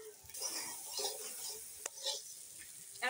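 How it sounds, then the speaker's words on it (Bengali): Eggplant frying in hot oil with black cumin seed tempering and green chilies, a steady close sizzle with scraping stirring sounds and a few sharp utensil clicks. "বেগুনটা একটু ভেজে নিচ্ছি"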